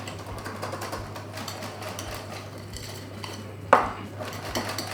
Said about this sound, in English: So now I'm just going to finish this with the whisk.